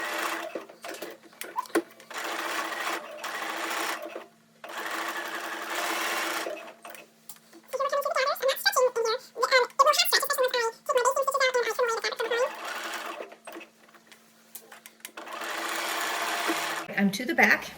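Domestic sewing machine zigzag stitching elastic onto lingerie, running in several bursts of rapid mechanical whirring separated by pauses, with someone talking between and over the runs.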